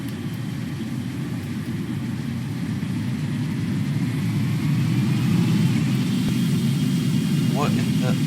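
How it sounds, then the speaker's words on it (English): Boeing 777-300ER jet engines idle in Microsoft Flight Simulator after startup, giving a loud, steady low rumble with a broad whine above it. The sound swells slightly midway and holds at a constant level. "both engines had a successful startup"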